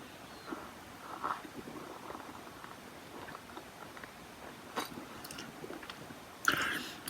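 Speculoos cookies being chewed, a soft, wet crunching and mashing close to the mouth that continues steadily at low level, with a brief louder bite near the end.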